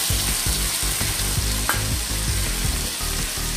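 Loud, steady sizzling and bubbling in a frying pan as water goes in while cooking a fish egg dish, with light rhythmic stirring knocks throughout and no voices.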